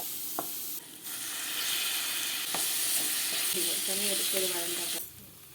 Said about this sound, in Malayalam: പാനിൽ എണ്ണയൊഴിച്ച് കടുകിട്ട് ജിഞ്ചർ ഗാർലിക് പേസ്റ്റും ചെറുതായി അരിഞ്ഞ സവാളയും തക്കാളിയും ഇട്ട് നന്നായി വഴറ്റുക